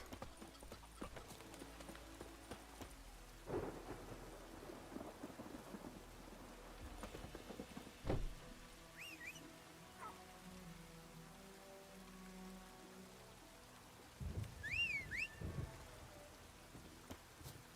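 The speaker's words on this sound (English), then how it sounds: "A storm, damn it." Thunderstorm in The Witcher 3 game world: steady rain patters on surfaces while heavy thunder cracks and rumbles, horse hooves clip-clop along, and a few faint bird chirps cut through the downpour.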